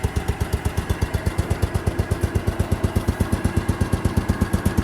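A Case 224 garden tractor engine idles close by with a steady, rhythmic chug and regular pulsing beats throughout, without any clear shutdown.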